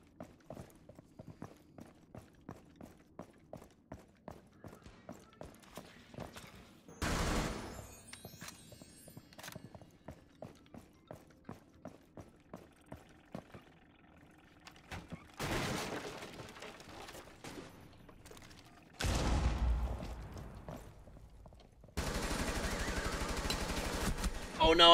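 A bot fires at the player in Rainbow Six Siege: a run of quick, regular footsteps gives way to several loud, sustained bursts of automatic gunfire, with a voice heard intermittently.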